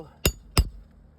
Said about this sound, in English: I'm driving these nails home.